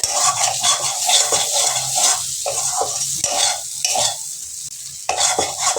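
An egg and potato cutlet mixture fries in a pan, with a steady loud sizzle broken by repeated scraping stir strokes and light utensil knocks against the pan throughout.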